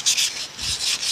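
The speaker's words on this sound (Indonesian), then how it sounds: "setelah kita amplas pakai yang amplas kasar supaya kotoran mudah lepas, kali ini kita pakai yang halus." Fine sandpaper rubbed back and forth on a metal part of a Zhimizu water pump, close and crisp, with several quick rasping strokes in a rapid rhythm and no talk.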